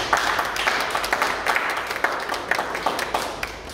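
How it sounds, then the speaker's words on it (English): A church congregation claps together for first-time visitors, a dense, steady patter of many hands sustained throughout, moderately loud with faint talk beneath. "Let's clap our hand for them"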